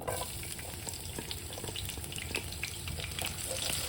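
Chopped garlic frying in a pan, a steady broadband sizzle with scattered crackles and faint clinks of stirring, close and continuous with no talk.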